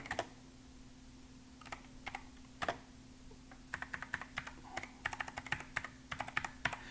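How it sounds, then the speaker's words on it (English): Someone types on a computer keyboard nearby in irregular bursts of crisp clicks that grow quicker and denser toward the end, heard alone against a quiet room hum. "I was typing on my software studio"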